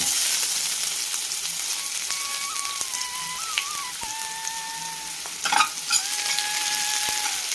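A cup of chopped onions sizzles steadily in hot oil in a pan, a constant crackling hiss with occasional stirring clatters and a faint electronic tone in the background.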